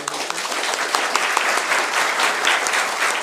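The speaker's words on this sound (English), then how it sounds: "A round of applause for." An audience at a 2013 prize lecture applauds: a steady wash of hand claps, loud and sustained throughout, with no voices over it.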